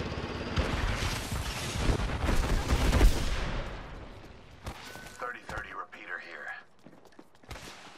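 A frag grenade blast and rapid gunfire in the Apex Legends video game make a loud, rumbling burst of explosions and shots that fades, followed by short in-game voice lines.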